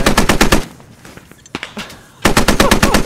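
Machine gun fire from a vehicle in an MRAP convoy in the Squad video game: loud, close bursts of rapid shots, a short pause with scattered quieter sounds, then another burst.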